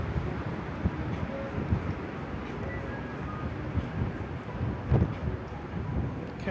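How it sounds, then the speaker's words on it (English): Strong wind buffets the microphone on the open upper deck of a Carnival Celebration cruise ship at sea, a continuous low rumbling roar with gusty swells. "The wind's a little strong."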